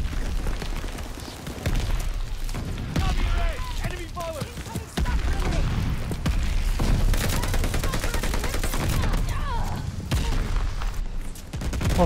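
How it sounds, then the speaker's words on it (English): Video game battle with constant explosions and gunfire, dense rumbling blasts and rattling shots running throughout, with a person talking excitedly over the din. "There's just explosions happening."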